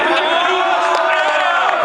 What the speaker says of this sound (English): We got a pretty good crowd response for that